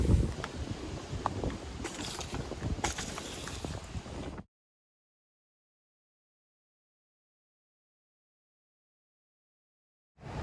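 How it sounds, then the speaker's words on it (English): Wind blowing outdoors on a cloudy Hawaii hiking trail, a steady broadband rush buffeting the microphone for about four seconds before cutting abruptly to silence, with no one talking. "the wind is blowing at a good speed so that it keeps us cool"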